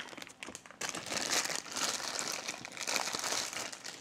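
Plastic packaging of a newly bought microphone stand being opened, a loud, close, continuous crinkling and rustling that starts after a brief lull and carries on without talk.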